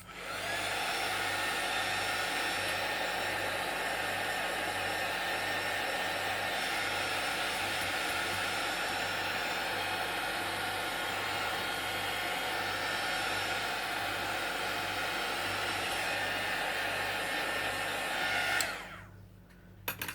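A hair dryer blows steadily and loudly on a painted art journal page for about eighteen seconds, a constant airy roar with a low hum, then cuts off abruptly near the end.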